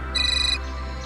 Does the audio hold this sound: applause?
no